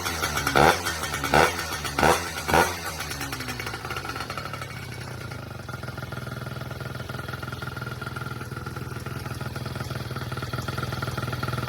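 A Honda Dio two-stroke scooter with an Athena upgrade fires with a few sharp revs, then settles into a steady, buzzy idle, close and continuous.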